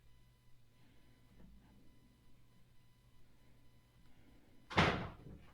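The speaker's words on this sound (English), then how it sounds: "open the door" An indoor door swings open with a sharp, loud clunk of the latch near the end, after several seconds of quiet room hum, with no talking.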